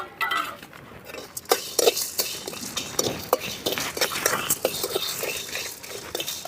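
Black peppercorns are stirred and roasted in a pan with a metal spoon, giving repeated scraping clinks and soft rattles in an irregular rhythm, close up, while a person speaks quietly.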